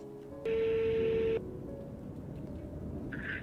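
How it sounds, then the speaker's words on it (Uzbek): A telephone call being placed: a steady dial or ringback tone sounds for about a second, followed by quieter line noise and a brief higher electronic tone near the end. "Hozir telefon qilib ko'ramiz."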